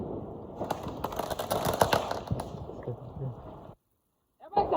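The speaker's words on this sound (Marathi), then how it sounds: "तिकडे फटाके वाजून राहिला" Sharp crackling bursts of Diwali firecrackers going off in a rapid irregular cluster, fairly close, then a brief silence before more pops begin.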